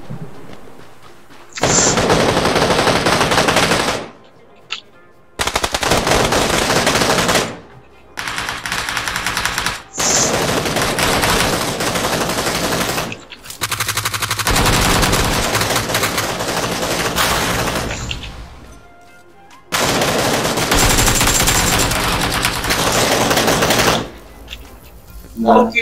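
Bursts of automatic rifle fire from a PUBG-style battle royale game, several long rapid volleys broken by short silences, loud and close, with players' voices faintly mixed in.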